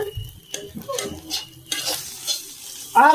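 Food fries in a pan at home while a utensil stirs and scrapes through it, with sizzling bursts and clinks of cookware in short, close, uneven strokes.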